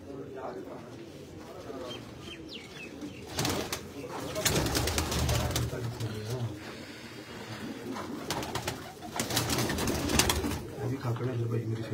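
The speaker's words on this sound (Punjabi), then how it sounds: "ਮਲਕ ਸਾਹਿਬ ਦੇ ਜੋੜਿਆਂ ਵਾਲੇ ਕਬੂਤਰ" Several pairs of pigeons coo in a steady, overlapping chorus at close range, while people talk over the birds throughout.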